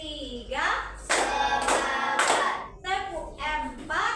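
Children in an Indonesian classroom clap out a counted rhythm in sharp bursts of several claps, mixed with their voices chanting between and over the claps.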